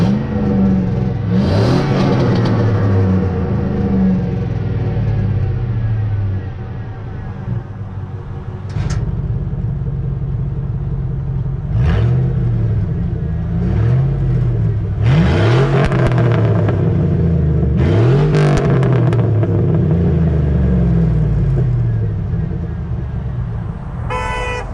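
Chevrolet Trailblazer SS with an electronic exhaust cutout, engine revving and rising in loud repeated pulls as it drives by, with a deep throaty exhaust note that swells and fades several times.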